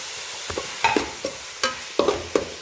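A spoon scrapes and clacks through mutton and tomatoes in a frying pan for a Kerala-style mutton fry, with several quick irregular stirring knocks over a light sizzle close by.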